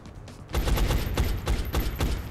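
A heavy soldier in XCOM: Enemy Unknown opens fire, a loud close burst of repeated gunshots in an even rhythm of about seven or eight sharp reports, with no talk over it.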